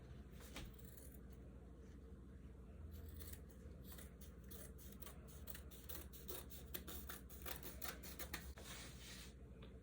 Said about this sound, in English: So I'm going to trim some of this off.